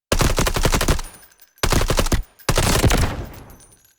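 Three rapid bursts of automatic rifle fire from short peeking shots in the video game Delta Force, each a tight string of loud cracks with a brief decaying tail, separated by short pauses.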